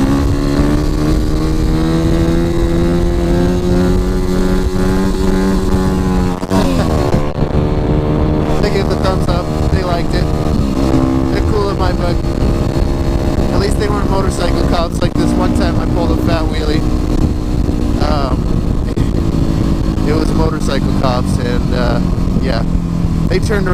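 A Yamaha WR250R supermoto's single-cylinder engine drones steadily at high revs throughout, loud and close, with brief shifts in pitch as it surges, while a rider talks over it.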